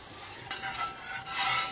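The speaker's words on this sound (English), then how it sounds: "Now we're gonna stir this baby real slow." A dark roux slowly stirred in a pot, a soft continuous scraping and gentle sizzle that swells slightly toward the end, heard close and alone without talk.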